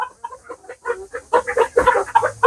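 Native hill chickens on a farm cluck loudly and close up in quick, overlapping bursts, building into a dense run of chatter from several birds.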